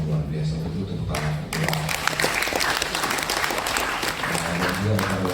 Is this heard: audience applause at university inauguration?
yes